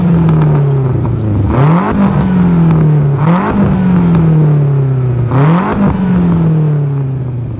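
A modified 2013 BMW M5 with a carbon hood accelerates hard, its engine note climbing through three loud, close revving pulls, each rising sharply and then easing back, with no talking over it.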